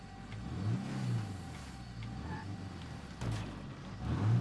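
A car engine in the video game State of Decay 2, revving in mid-range surges that rise and fall over a few seconds and swell again at the end, loud and close with no talking.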